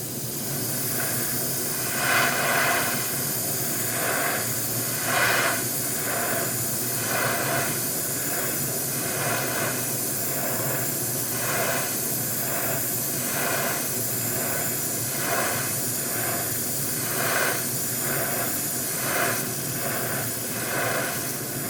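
An airbrush spraying paint onto a model ship gives a loud, continuous hiss of air and paint, pulsing in regular bursts as the trigger is worked, with no talk.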